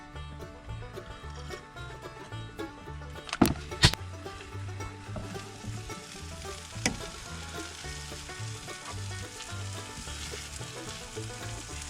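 Food simmering and sizzling in a pan while cooking at a campsite near Shrewsbury, a continuous close crackle with a couple of brief louder clinks of utensils partway through.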